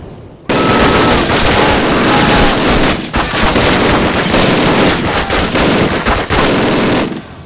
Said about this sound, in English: Grab that MG-42 and use it.